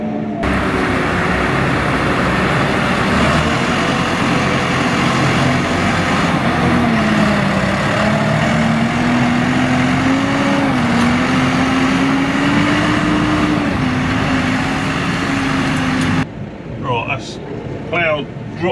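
A small 4-cylinder New Holland T5 tractor engine runs steadily and smoothly, a continuous loud hum with a slowly rising and falling tone, before cutting to quieter sounds near the end; a person talks over it.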